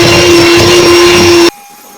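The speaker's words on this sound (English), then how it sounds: "just cook the rest on the mixer, and then continue until you get a creamy texture" An electric mixer whirs steadily at full speed as it creams oatmeal chocolate chip cookie dough, a loud continuous motor drone that cuts off abruptly after about a second and a half, leaving a faint hum.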